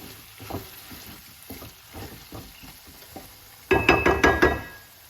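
Jackfruit curry stirred in a pot during Jamaican home cooking: soft scraping strokes repeat at a steady pace, then a louder burst of stirring and sizzling close by at the end.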